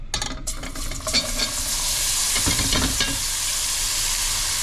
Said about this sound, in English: Now we'll go ahead and throw all the onions in there.